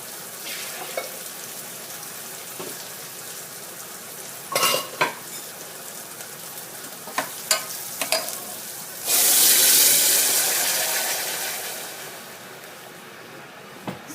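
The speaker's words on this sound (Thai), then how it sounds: "ใส่หอมเหลืองเตรียมใส่น้ำค่ะ" Onion fries in a pot and is stirred with a few sharp utensil knocks against the metal, then a louder rush of sizzling rises and slowly fades; no speech.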